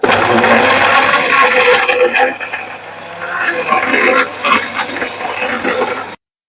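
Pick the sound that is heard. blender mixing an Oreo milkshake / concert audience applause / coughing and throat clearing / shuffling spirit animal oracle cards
blender mixing an Oreo milkshake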